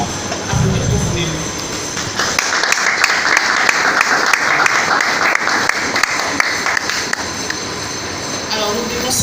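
Audience applause at a comic book history talk and exhibition in the DRC, a steady broadband clatter of clapping hands filling most of the stretch after a short burst of voice at the start.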